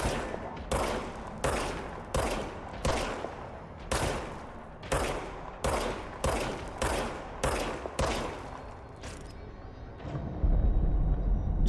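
Gun in the game Control firing about a dozen heavy single shots at a steady, slightly uneven pace, each with a booming tail, loud and close, ending in a low rumble.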